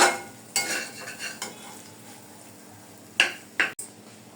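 Noodles stirred in a frying pan, a low sizzle under a few brisk scraping strokes and sharp spatula knocks against the pan, with no voices.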